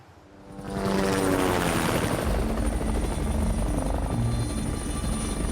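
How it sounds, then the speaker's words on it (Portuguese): An Air Force search helicopter flying at night, a loud steady rotor thrum and turbine whine swelling in after a quiet start and holding constant, near and alone. "Um helicóptero especializado da Força Aérea, equipado com visão noturna, foi convocado para permitir que a busca aérea continue durante a noite."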